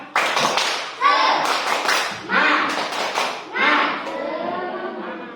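A classroom of children performs tepuk semangat, a rhythmic spirit-clapping routine, during an Indonesian school lesson. Patterned bursts of clapping come in quick groups, loud and close, with children's voices chanting along between the claps.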